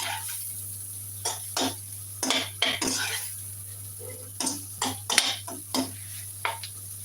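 Couscous being stirred together with vegetable stock in a pot, heard as a run of short scraping and clinking utensil strokes against the pot over a steady low hum, with brief pauses between bursts.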